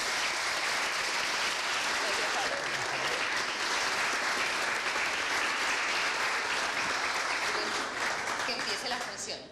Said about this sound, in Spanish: El aplauso para ustedes.